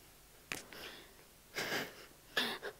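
Short wet sniffles and nasal breaths from a woman in a Marathi stage comedy sketch, three separate bursts spaced over a few seconds, close and fairly quiet with no talking.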